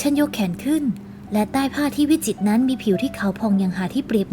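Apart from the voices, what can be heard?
None of the usual background noises is heard.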